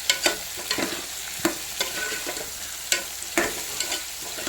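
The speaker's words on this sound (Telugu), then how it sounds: "ఆనియన్స్ మొత్తం వేసుకున్నాక బాగా ఫ్రై అవ్వాలి ఫ్రెండ్స్" Onions and cashews fry in hot oil with a steady crackling sizzle, broken by sharp scraping strokes of a stirring spoon at an irregular pace, close and without voices.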